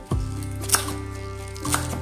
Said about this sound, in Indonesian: Untuk seledrinya kita potong panjang-panjang ya.